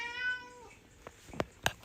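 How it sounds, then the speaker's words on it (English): A cat gives one clear, drawn-out meow up close, followed by a few faint clicks and taps in an otherwise quiet room. "Cat Nerman says hi"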